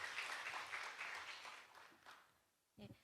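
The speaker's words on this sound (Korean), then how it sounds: "큰 박수로 화답해 주시기 바랍니다" Applause from the audience at a Seoul education policy forum, sustained at first and then fading away, with a brief voice speaking near the end.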